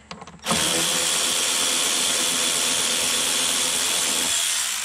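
A power tool whirs continuously as 8 mm bolts come out of a Chrysler 300 undergoing a Hellcat conversion. After a few short taps it runs loud and close for about four seconds, then eases off.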